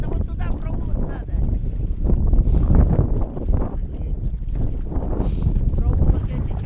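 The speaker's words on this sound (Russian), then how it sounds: "Проедем на моторе-то, нет?" An outboard motor on a boat runs through floodwater, a constant rough drone mixed with wind buffeting the microphone, under intermittent talk.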